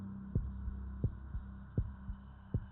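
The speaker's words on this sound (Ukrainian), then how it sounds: "серце б'ється швидше, ніж зазвичай" A heartbeat sound effect plays as low, thudding double beats in a steady rhythm, about four paired throbs, under a faint hum with no voices.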